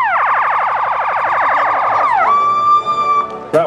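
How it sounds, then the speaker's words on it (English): Fire brigade truck in a holiday parade sounding its siren nearby: a rapid, loud warbling yelp that sweeps down into a steady high wail, ending with a short blast. "That one siren sounds like a video game I had when I was 10."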